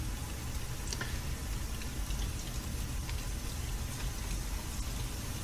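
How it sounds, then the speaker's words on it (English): Rain falling with ground and surface splashes in the Sky video game, a dense steady hiss of drops with faint scattered patter, even and continuous with no talk. "That's the rain downfall from top to bottom."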